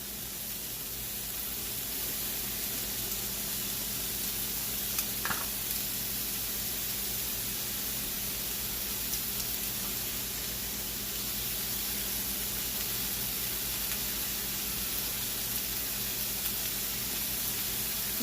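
Broccoli keto stir fry with pork rinds sizzling in a pan, a steady broad hiss that holds from start to finish with no talk over it.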